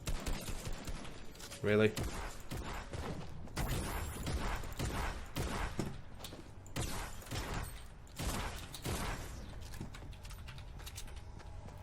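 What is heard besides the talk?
gunfire from the video game Fortnite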